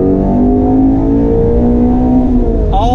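A 2019 Shelby GT350's Voodoo flat-plane-crank V8 revs at full throttle, a loud, close, rising high-pitched scream that holds steady, then drops sharply at the upshift near the end.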